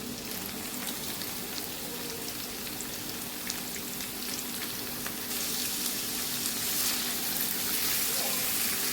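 Boiled, still-firm pieces of papaya fry slowly over a low flame in a pan. A steady crackling sizzle with scattered pops plays close by, and the hiss grows brighter and louder partway through.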